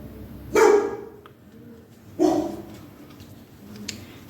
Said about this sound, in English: And Joey decides to bark.